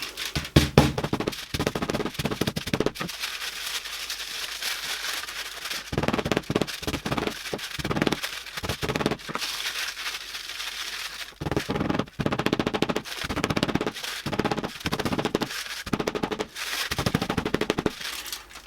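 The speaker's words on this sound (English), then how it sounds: "It actually compresses quite a lot, especially when you give it a few whacks with a hammer." Dense, rapid metallic banging and crinkling as a hammer compresses a ball of aluminum foil, bursts of sharp strikes in quick succession with brief pauses, loud and close.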